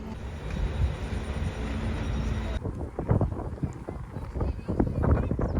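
A train pulls into Trakai station in Lithuania, a steady low rumble of wagons with a high whine over the first half, then rattling clatter and wind buffeting as it slows.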